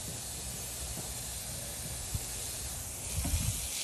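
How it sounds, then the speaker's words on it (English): A garden hose sprays water while a horse is bathed, a steady soft hiss running throughout with a few faint thumps near the end. "he just wants me to spray his mouth"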